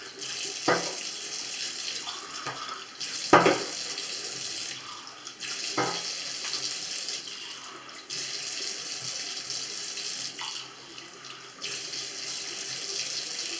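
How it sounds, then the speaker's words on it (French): Hot water pouring and splashing onto a steel sink, a steady close hiss of running water broken by a few sharper splashes and clinks, with no voices. "vous renversez de l'eau chaude"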